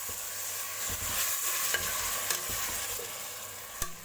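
A brioche bread filling simmers and sizzles in a pan after about a glass of water is added, giving a steady soft crackle with occasional spoon taps and scrapes.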